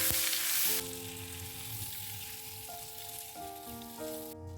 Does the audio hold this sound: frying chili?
yes